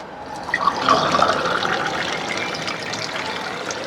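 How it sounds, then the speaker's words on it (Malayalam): A water purifier machine dispenses filtered water, a steady gushing, splashing pour close by with a slight surge near the start. "ഫിൽട്ടർ ചെയ്ത് ഈ മെഷീൻ കൊണ്ട് ഫിൽട്ടർ ചെയ്തെടുത്ത ശുദ്ധമായ വെള്ളമാണ്"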